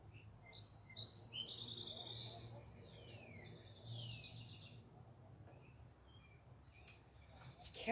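Birds singing and chirping outdoors, with quick high twittering phrases in the first few seconds, then sparser chirps over a faint low background hum.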